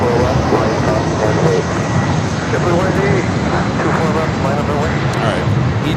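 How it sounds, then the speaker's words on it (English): An EgyptAir jet airliner takes off at LAX with a loud, steady engine roar that fills the whole stretch, and someone talks over it throughout. "Egypt Air heading up here for north side and takeoff flight, heading back to Cairo, Egypt."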